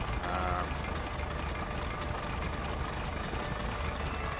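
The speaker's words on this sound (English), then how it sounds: "Reasonably good engine sound." A light aircraft piston engine idles steadily with a low, throbbing, slightly knocking rumble, moderately loud, with no clear talk.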